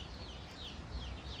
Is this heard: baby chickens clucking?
yes